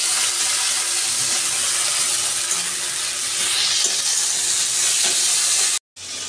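Chopped onion, ginger-garlic paste and chopped tomato sizzle and fry in a pan while being stirred, a loud, steady hiss with light scraping, cut by a brief dropout near the end.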